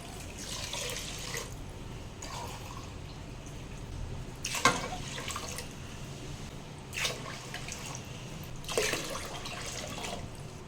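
Water poured into washed rice in a pot while making ven pongal, several splashing pours in separate bursts over a quiet background.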